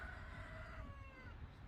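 A rooster crows close by, a drawn-out wavering call with a second shorter rise after it, over a steady outdoor background. Chickens are nearby, and no one speaks.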